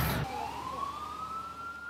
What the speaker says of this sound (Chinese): 真侪消防车伫个巷仔内底来来去去拍火